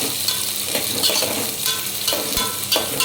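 Green chillies and onion frying in a pan, giving a loud, continuous close-up sizzle with occasional stirring scrapes and light clinks of the pan, no voices.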